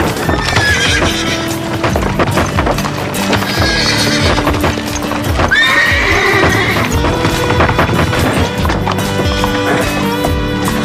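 Several horses whinny and neigh loudly while hooves clop and shuffle rapidly, a busy, crowded scene up close.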